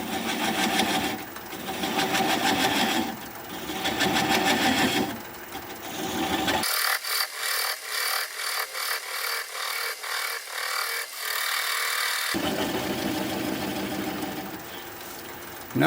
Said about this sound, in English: Now I'm going to switch to a swept back bowl gouge so that I can get in there closer and tighter.